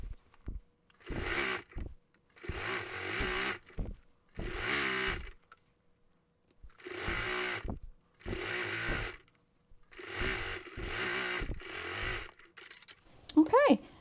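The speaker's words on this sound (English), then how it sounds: "I'm going to take this and put it through with my walking foot" A home sewing machine fitted with a walking foot stitches quilt pieces together in rapid whirring runs, starting and stopping in six or seven bursts of a second or two each, separated by quiet pauses.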